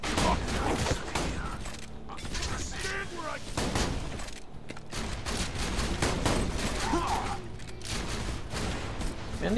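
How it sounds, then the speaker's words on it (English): Scoped shotgun blasts in Borderlands 2, fired repeatedly in quick bursts amid dense in-game combat noise, mechanical clatter and a voice talking over the action. "that's a shotgun with a scope"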